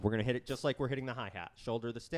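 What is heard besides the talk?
None of the usual background noises is heard.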